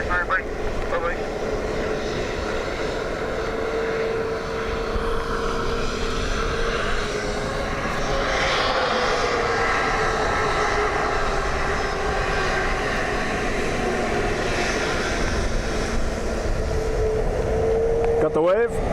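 Airliners taxiing at Dublin Airport, a steady engine whine and rumble holding throughout at moderate distance on a breezy day, with a person talking intermittently over it.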